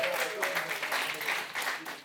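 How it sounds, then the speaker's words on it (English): Audience applause fills the room at the ZK Hack Berlin hackathon closing ceremony, a dense, steady patter of many hands with a voice faintly audible above it. "Congrats, applause to you guys."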